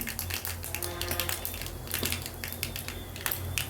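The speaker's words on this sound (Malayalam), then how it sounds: "ഞാൻ കടുക് വറുക്കട്ടെ കേട്ടോ അപ്പോൾ അതാ കടുക് പൊട്ടി" Mustard seeds popping in hot oil for a Kerala theeyal curry, a rapid scatter of sharp little crackles and pops over a steady background hiss, close and fairly busy, with no voice.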